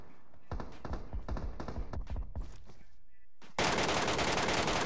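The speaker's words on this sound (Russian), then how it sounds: "А здесь выстрелы." Rapid bursts of gunfire crackle in quick succession in the video game Metro Royale, then give way to a loud, steady wash of noise near the end.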